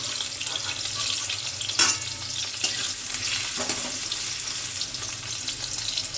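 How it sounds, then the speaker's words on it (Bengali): Potatoes sizzle steadily in hot oil in a pan, a constant close hiss with a couple of brief knocks and scrapes from stirring. "আমি আলুটা ততক্ষণের জন্য ভাজতে থাকছি"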